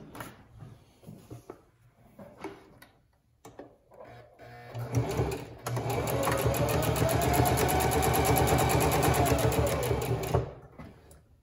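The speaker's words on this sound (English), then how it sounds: "we're just going to do a top stitch really close to the edge on the three sides that we've already sewn" A sewing machine top stitches about an eighth of an inch from the edge in one steady, close run of rapid stitching lasting about five seconds, preceded by faint handling clicks and quiet rustling.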